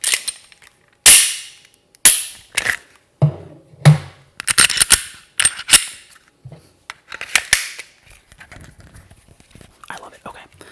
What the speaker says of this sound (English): the sounds of tactical reloading just sound splendid